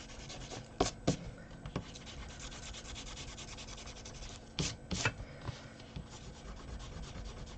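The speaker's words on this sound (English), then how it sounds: "Get yourself a rubber and rub out those pencil lines." A rubber eraser rubs out pencil lines on paper while a Valentine gift box is being made, giving quiet, close scrubbing strokes with a few brisker bursts of rubbing between softer stretches.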